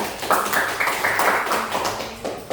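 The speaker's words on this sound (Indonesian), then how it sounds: "Oke, tepuk tangan." A classroom of students claps together, producing a dense, ragged patter of many hands, fairly loud and close, with sporadic voices mixed in.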